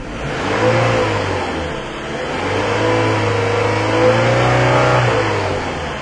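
A Toyota Camry engine, throwing air-fuel sensor fault codes, revs up under load in two long rising and holding pulls with a short dip between, loud and close with a steady mid-pitched drone.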